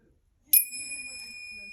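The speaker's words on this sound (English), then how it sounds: "I send my heart along with the sound of the bell" A single bell struck as a mindfulness invocation, a sudden bright ding after a moment of quiet, its pure ringing tone lingering and slowly fading.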